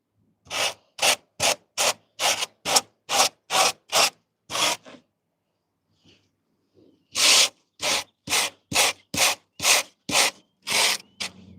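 A Harbor Freight welding wire brush scrubs across wood in quick, rough rasping strokes, about nine in a row, then a short pause and another similar run, loud and close.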